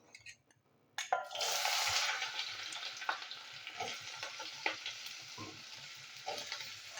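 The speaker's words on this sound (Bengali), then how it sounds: "তো এখানে আছে বিনস, গাজর, আলু, আমি একসাথে ভেজে নিচ্ছি।" Beans, carrot and potato frying in white oil in a wok, a sudden burst of sizzling after a quiet start that settles into steady frying with occasional stirring clatters.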